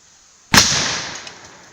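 A single sharp report from an Airforce Texan .457 big-bore air rifle firing at a pumpkin, a sudden loud crack followed by a short fading tail, no speech over it.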